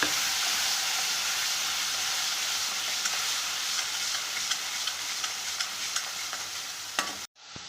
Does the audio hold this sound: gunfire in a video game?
no